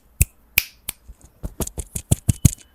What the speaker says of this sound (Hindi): अगर मैं इधर चुटकी बजा रहा हूँ दूर